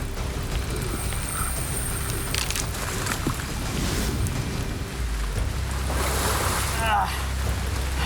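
Large river fish, likely an arapaima or paraiba, thrashing and splashing at the water's surface while hooked, with broad sloshing bursts over steady outdoor water and wind noise, loudest toward the end.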